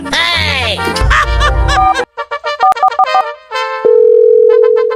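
A telephone in a Bangla comedy sketch sounds call tones: after a brief jumble of other noise come short electronic beeps in uneven bursts, then a long steady tone, loud and close.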